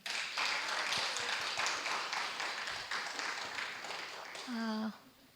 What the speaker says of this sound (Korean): 우리 저 한 번 더 김광태 오빠에게 박수를.